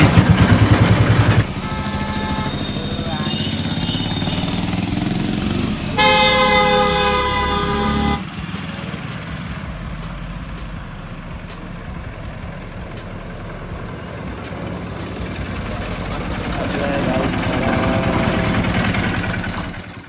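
A Bajaj Maxima auto rickshaw engine runs after a clutch plate change with a steady rumbling drone, and horn toots sound twice early on, the second longer. The engine keeps going, swelling slightly near the end.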